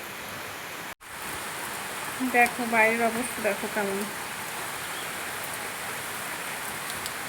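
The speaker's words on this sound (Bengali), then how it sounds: "একভাবে বৃষ্টি হচ্ছে জোরে জোরে।" Heavy rain pours steadily outside a home in a constant hissing wash that fills the whole stretch, while a voice speaks briefly over it midway.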